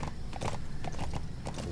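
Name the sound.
horse hooves and neighing in Metal Gear Solid V video game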